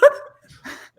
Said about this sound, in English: Ghai barking at Andrew